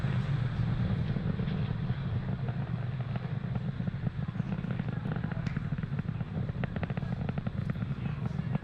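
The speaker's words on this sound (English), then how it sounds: "Falcon 9 has successfully lifted off from pad 40" A SpaceX Falcon 9 climbs away from pad 40 carrying Inmarsat I-6 F2, its engines giving a continuous loud crackling roar, full of popping, rumbling texture, that stays even throughout.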